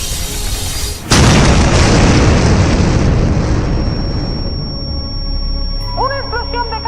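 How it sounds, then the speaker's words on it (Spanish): A loud boom from an explosion at a school bursts in suddenly and then rumbles and decays for several seconds, with a high tone and a brief voice-like sound near the end. "Una explosión de causas desconocidas en esta escuela ha dejado ingresados a varios estudiantes."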